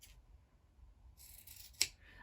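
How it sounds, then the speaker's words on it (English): Scissors snip through fabric seam allowances in the corner of a handbag near a nylon zipper, a few quiet cuts followed by one sharp, louder snip, with no talking. "we're going to go ahead and trim down our seam allowances over here in the corner"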